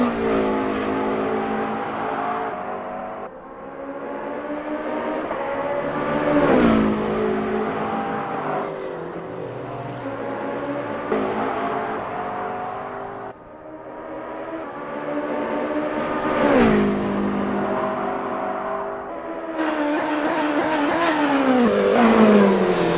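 LMDh Ferrari 499P 2023 hybrid race car in Assetto Corsa during a practice session, its engine loud and close, climbing through the revs in repeated sweeps with sharp gear changes between each rise.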